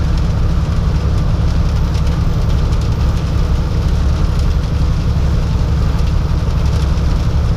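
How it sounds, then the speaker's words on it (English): Dense, steady rain hiss over a low engine rumble, loud and unbroken throughout, as if heard from inside a moving vehicle. "It's raining a lot harder."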